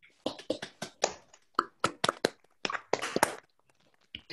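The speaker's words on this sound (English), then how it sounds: "everyone can unmute their microphone and we give the initial, like, real life after the talk. We give the applause" Participants on a video call unmute and applaud, scattered uneven hand claps in quick clusters, thin and close-miked, with gaps of near silence between bursts.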